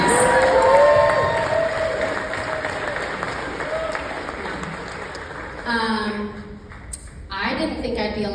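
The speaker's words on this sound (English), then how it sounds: "Let's give a warm round of applause for our educators out there, you guys." A live storytelling audience at Mortified LIVE Denver applauds and cheers for educators, a broad wash of clapping with whoops and raised voices that fades partway through as the crowd settles, followed by brief sounds near the end.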